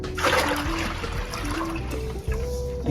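Water is poured into a Le Pot grow box for a garden, producing a steady, close splashing trickle that runs the whole time with no talking over it.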